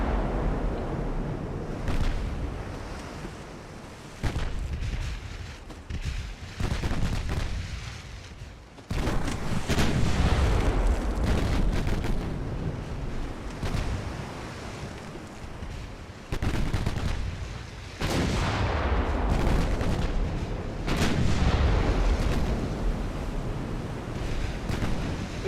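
Battleship main guns fire in the naval warfare game Ultimate Admiral Dreadnoughts, with heavy booming blasts recurring as loud broadband surges over a continuous rumbling sea and wind bed for about 25 seconds.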